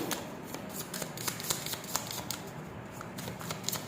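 Tarot cards riffled and shuffled by hand up close, a quick run of papery flutters and snaps with no talking.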